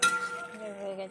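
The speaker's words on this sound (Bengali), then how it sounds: "ঢাকনাটা তুলে নেবো।" A lid is lifted off a pot of cooked chhatu, giving one brief metallic clink followed by a short, fading ring, close by.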